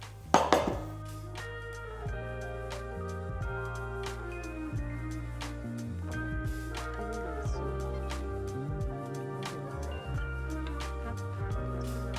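Plates, pots and cutlery clink and scrape repeatedly while Senegalese mafe stew is dished up, with a sharp clatter at the start and steady close-up knocks and rattles throughout, no talking.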